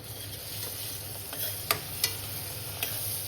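Onion sautéing in a pan after browned garlic, a steady broad sizzle running throughout with a few faint clicks of a utensil stirring against the pan.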